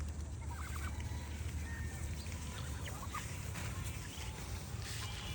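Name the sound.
Muscovy ducks eating kalojira rice paddy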